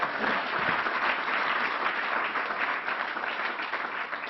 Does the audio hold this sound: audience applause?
yes